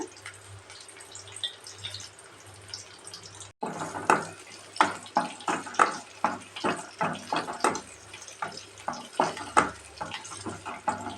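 Curry leaves and three green chillies fry in a pan with onion, giving a steady run of sharp crackles and spattering pops close by, starting abruptly after a short quiet stretch.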